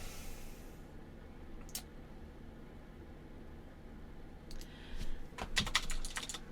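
Someone types on a computer keyboard in quiet, scattered keystrokes, first a single tap, then a faster, louder burst of clacking near the end against a low background hum.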